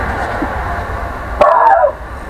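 A single dog bark at a train rings out over a steady background rumble in a shop, followed by a brief yelping tail that fades.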